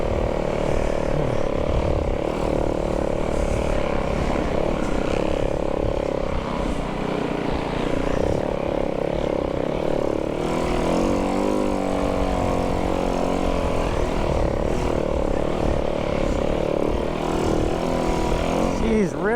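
A snowbike engine drones loud and steady while the rider tears through timber, a continuous buzzing roar with rising and falling revs, with talking over it.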